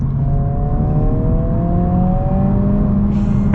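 A 2022 Honda Civic Si engine blips as it downshifts with automatic rev matching, a steady loud drone from inside the cabin with rising engine tones and no talking.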